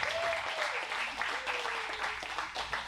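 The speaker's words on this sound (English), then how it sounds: "Let's give Caitlin a round of applause." A room full of people applauds Caitlin, steady broadband clapping throughout with a few voices and a faint whistle-like cry rising over it.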